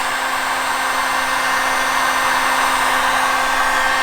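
A hot air blower hums steadily and loudly at close range as it heats vinyl wrap on a garage, a constant whine with no voices over it.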